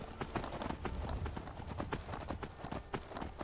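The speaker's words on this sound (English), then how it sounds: "My horse is fatigued. Come on, run faster!" A horse gallops in the video game Skyrim, with rapid rhythmic hoofbeats thudding steadily throughout, quiet and close, and no talk over them.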